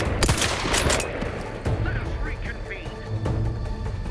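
Gunfire in the video game The Outer Worlds 2, heard as several sharp bursts of shots over a steady game soundscape, with a player talking throughout.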